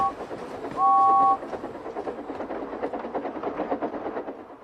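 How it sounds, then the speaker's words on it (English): A steam engine sounds a short, clear two-tone whistle, then keeps chugging along with a steady rhythmic puff over rolling rail noise. "So steam engines blow their whistles."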